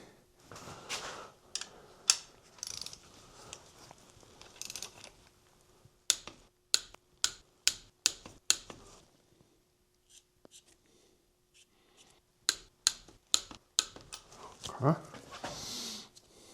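A torque wrench tightens the main bolts on a Doosan D24NAP diesel engine during a Bobcat T590 rebuild, giving a run of sharp, evenly spaced clicks in two close bursts, with talk and shop noise between them.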